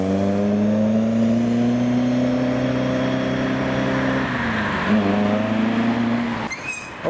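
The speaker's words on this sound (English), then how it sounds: "the Rally Spec Mark II Escort. It's one of those cars that doesn't like being driven slowly" A Rally Spec Ford Escort Mark II rolls slowly at a classic car meet, its engine a loud, close, steady low drone with harmonic hum; near the end the note dips and a brief squeak cuts in.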